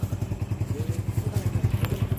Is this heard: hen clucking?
no